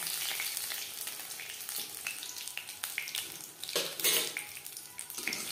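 Crisp-frying fish in butter crackles and sizzles continuously, close and fairly loud, with intermittent scrapes and bumps as the pieces are turned in the pan.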